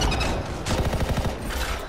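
Gunfire rings out in the online shooter Anthem, a sniper-style weapon firing in a quick run of sharp cracks mid-stretch over a busy background of game noise.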